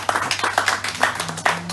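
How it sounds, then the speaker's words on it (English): An audience at a launchpad debate handover claps hands together, a short burst of scattered, uneven claps close by, fairly loud. "I think we have to give Lord hand clap for the great help."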